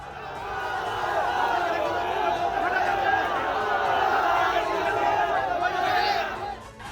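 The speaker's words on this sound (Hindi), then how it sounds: "जुम्मे की नमाज के बाद जामा मस्जिद चौराहे पर भीड़ इकट्ठा हुई। शुरुआत नारेबाजी से हुई, लेकिन अचानक से भीड़ हिंसक हो गई।" An agitated protest crowd surges at the Jama Masjid crossing after Friday prayers, a dense, continuous roar of shouting and slogan chanting that stays loud and unbroken throughout.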